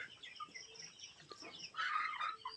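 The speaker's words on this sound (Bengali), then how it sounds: "আপনারা দেখতে পাচ্ছেন আমার লেয়ার মুরগিগুলো।" A flock of somewhat weak layer hens, just given a coryza vaccine, clucks and chatters continuously at low volume, the murmuring calls overlapping with no speech.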